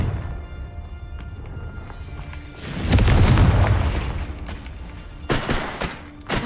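A Confringo fire spell goes off in the Hogwarts Legacy video game as a deep booming blast that swells midway and fades, followed by a few sharp impact hits against a background of busy combat effects.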